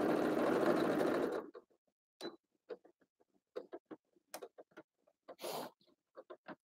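A sewing machine stitches a plushie in one steady, loud burst for about a second and a half, then stops, leaving only scattered small clicks and handling noises.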